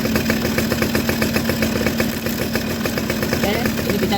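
A Suzuki RC motorcycle with a misfiring engine and a blackened, wet spark plug, running at a steady, close, rattly idle with rapid regular pulses and no break.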